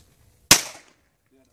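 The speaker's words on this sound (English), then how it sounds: "Now's your time to shoot." One gunshot is fired outdoors, a single sharp crack close by with a short fading tail, then quiet.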